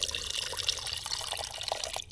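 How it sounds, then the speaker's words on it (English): Water pours steadily from a container into an electric kettle at close range, a continuous splashing hiss that cuts off abruptly near the end. "we can go ahead and fill this up with some water"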